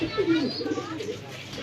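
A pair of Rajgolla pigeons at a pigeon farm give soft, low coos close by, with faint background voices underneath.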